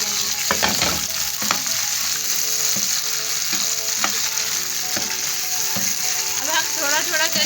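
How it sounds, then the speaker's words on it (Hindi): Onions and tomatoes sizzle and fry steadily in a pan while a utensil stirs and scrapes through them with repeated clacks, close and fairly loud, no talking. "अब हम इसके अंदर टमाटर शामिल कर देंगे और हम इसको अच्छी तरीके से मिक्स कर देंगे।"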